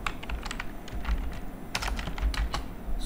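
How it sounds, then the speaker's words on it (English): Rapid keystrokes on a computer keyboard as a command is typed, close and clear, uneven clusters of clicks with brief pauses, no voices. "if you go to your command prompt and type"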